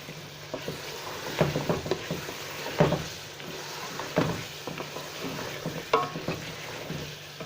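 Mutton sizzles in a pot while being stirred for Sindhi pulao, a continuous frying hiss broken by repeated scraping and clacking strokes of the spoon at an uneven pace, close by with no talk.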